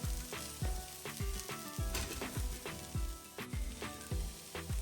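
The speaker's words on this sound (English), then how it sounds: "I'm gonna fry for a few more minutes and it'll be ready" Okra and potatoes fry in a pan with a steady, close sizzle, broken by a regular series of sharp scraping stirs about every half second, with no voices.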